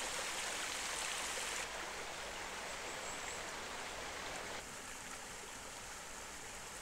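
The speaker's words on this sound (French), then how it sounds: "Cette même source en rejoint d'autres pour former un ruisseau qui grossit au fur et à mesure de son parcours" A steady rushing of flowing water, like a stream or small brook, fills the whole stretch as a constant broadband wash with no voices.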